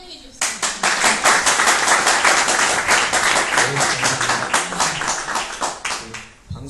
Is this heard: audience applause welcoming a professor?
yes